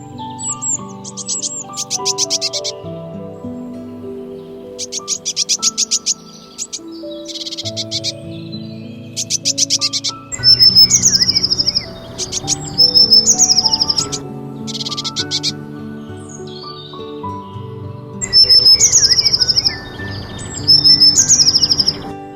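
A Eurasian blue tit sings and chirps in repeated bursts of high, bright notes and trills, close and clear, set over a soft musical backing with no speech.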